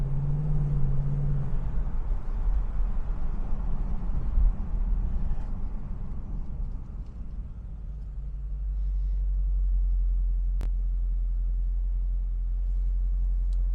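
Steady engine and road rumble from a 2017 Ford Mustang GT Premium cruising in regular drive mode, loud and continuous, easing briefly before settling into a lower, even drone, with no talking.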